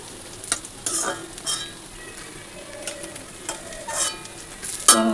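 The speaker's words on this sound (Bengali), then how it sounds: "মাছ ভাজা বসিয়ে দিয়ে ওইদিকে সেদ্ধ বের করতে গেছি" Fish fries in a pan on high heat, a close, constant sizzle broken by occasional spatula scrapes and brief spitting bursts, with no one speaking.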